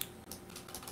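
Keys tapped on a computer keyboard while entering text in web design software, a quick run of soft clicks spread through one second with no talking.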